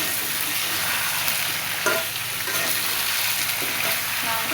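Whole garlic cloves frying in hot oil, a steady close sizzle with light stirring scrapes throughout and no voices.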